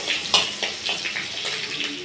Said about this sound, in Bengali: একটু রসুনটা এরকম একটু ভাজা ভাজা হবে